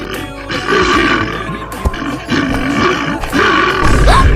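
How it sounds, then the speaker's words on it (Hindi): A loud, deep roar attributed to a wild bear in dense jungle, several throaty, rumbling bursts in quick succession, close and dominant over a noisy background. "अरे बाप रे, जंगली भालू।"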